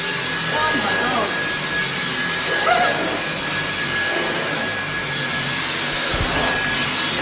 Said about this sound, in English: we're going to show you how it performs on carpet with lots of bits and dust